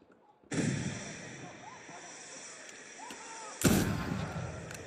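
Rifle gunfire in the video game Assassin's Creed Unity: two loud shots, the first at the start and a second a few seconds later, each followed by a long rolling echo.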